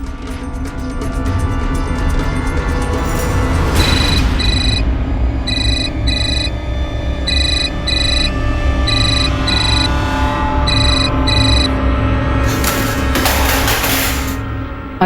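Repeating electronic phone ringtone in short rhythmic bursts over a steady background hum, from a dramatized home scene where a call is being placed, with the ring cycling several times at moderate loudness.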